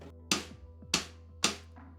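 A drumstick strikes near the rim of a snare drum three times at an even pace, each hit a thin, weak crack with a short ringing tail, close and alone.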